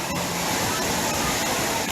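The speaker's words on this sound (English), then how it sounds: "This is their water playground area." Water playground area at Aquatica Orlando water park, a constant rushing splash of falling and spraying water filling the space, steady and fairly close.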